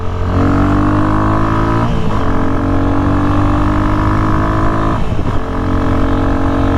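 A motorcycle bought on Amazon climbs a concrete hill, its engine droning steady and loud with two brief dips where the pitch drops and rises again as it accelerates and holds speed.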